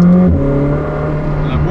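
A McLaren 765LT sports car accelerates on still-cold tyres, its engine a loud, steady close-up drone heard from inside the cabin, rising in pitch over less than two seconds.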